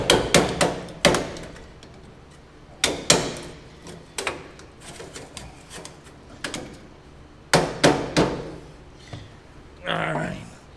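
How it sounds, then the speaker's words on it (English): A hammer drives a chisel during exhaust and electrical repairs on a dump truck, giving sharp metallic strikes in uneven clusters with pauses between, close and loud, with a voice speaking briefly near the end. "Nothing like a hammer and a chisel."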